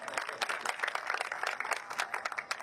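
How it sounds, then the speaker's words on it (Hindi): Audience clapping for a woman poet at a Hindi kavi sammelan, a dense steady patter of many hands applauding together throughout, with no voices rising above it. "बस इतनी ही तालियां बजाते रहिएगा"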